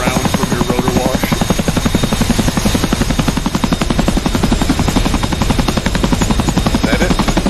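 A helicopter rotor in the DCS World combat flight game chops loudly and steadily up close, a fast continuous thumping with a whining drone and no talk.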